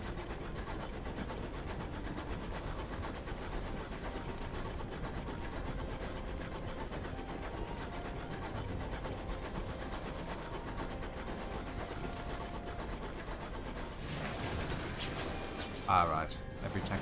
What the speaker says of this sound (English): This train is really hard to control.